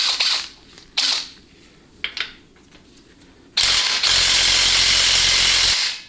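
A ratchet working on 15 mm rear transmission mount bolts of a 4L60E transmission, a few short clicking bursts followed by a long loud continuous ratcheting run, close up with no talk.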